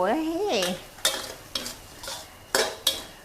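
Minced yellowtail fish is stir-fried with curry paste in a pan, a spatula scraping in a run of short, regular strokes over a soft sizzle, with a brief tonal sound at the start.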